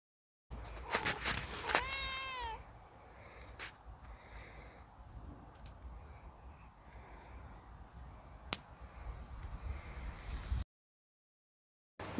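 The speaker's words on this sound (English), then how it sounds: "C for cat." A cat lets out a quick run of rising and falling meows near the start, then goes quiet apart from a few faint clicks and soft sniffing sounds.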